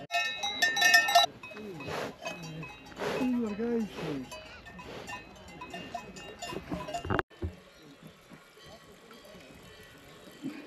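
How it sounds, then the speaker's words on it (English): Free-roaming cows in the Swiss mountains, their cowbells clanking and jingling irregularly nearby while people talk excitedly over them outdoors. "The cows are free here."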